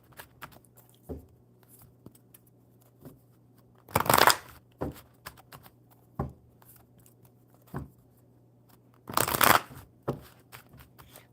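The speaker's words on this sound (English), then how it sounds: "One more good shuffle." Two bursts of a deck of cards being riffle-shuffled, separated by quieter taps and handling of the cards.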